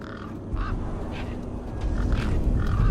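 Birds caw and squawk near a truck in the video game Beyond a Steel Sky, several harsh calls spaced across the scene over a low ambient hum, with no talking.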